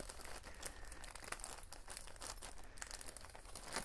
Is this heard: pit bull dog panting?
no